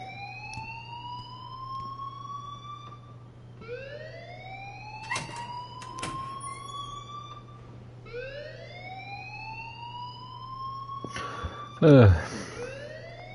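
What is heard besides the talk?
alarm ringing in the video game Life is Strange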